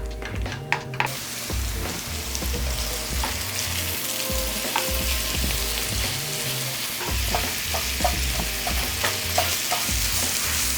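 Ground beef from a local farmer spread thin and frying in a pan for biscuits and gravy, a loud steady sizzle throughout with repeated scraping stirs and the odd utensil knock.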